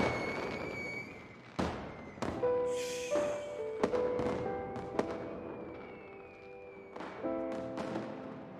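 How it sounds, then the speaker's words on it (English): Fireworks in the Honkai Impact 3rd game burst one after another in the sky, sharp cracks at irregular intervals over a soft tonal musical background, with no voices. "Fireworks bloomed in the sky and embers fell like shooting stars."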